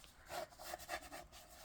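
A hand rubs firmly down over folded paper pleats in a short series of soft, dry, scratchy strokes, faint and close.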